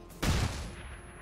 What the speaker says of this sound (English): might as well take him out with a flashbang